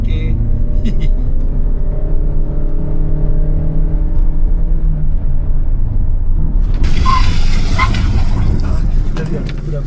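A car on Dunlop Blue Response TG tires accelerates with a loud, steady engine drone, joined near the end by a sudden broad rushing roar.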